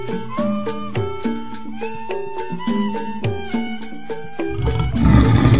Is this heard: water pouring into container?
no